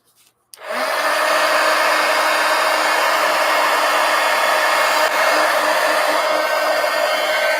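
Handheld dryer blowing on paint on a napkin journal page in a traveler's notebook, clicking on and then holding a loud, steady whooshing roar nearby, with no talk.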